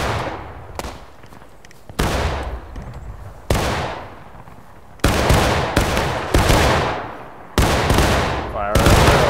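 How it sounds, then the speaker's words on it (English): Black-powder musket volleys from Civil War lines in the War of Rights video game, with Confederate and Union infantry firing in a 120-player line battle. Loud crashing volleys break out repeatedly at intervals of about one to two seconds, each rolling off into a reverberant tail. "See how the Confederates are firing."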